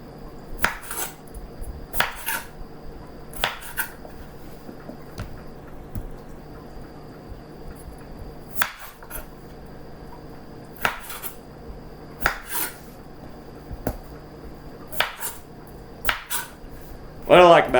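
A knife cuts through potatoes on a cutting board, leaving a string of sharp, irregular chops and clacks against the board with quiet gaps between strokes, heard up close with no talking.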